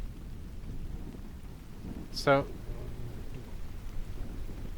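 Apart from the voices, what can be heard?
storm ambience with thunder and rain in video game Unfair Flips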